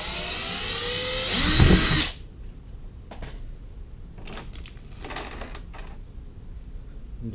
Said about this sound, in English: And it says to drill this one.